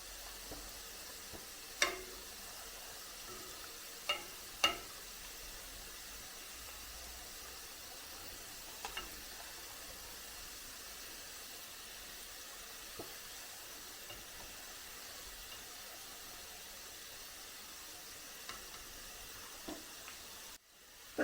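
Ripe banana snack shallow-frying in oil in a pan over a medium flame, a soft, steady sizzle with occasional faint clicks and pops, no voices.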